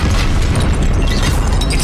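A Confringo blasting spell explodes in the video game Hogwarts Legacy, a loud, dense, sustained roar of rumbling blast noise that fills the whole moment with no clear gaps.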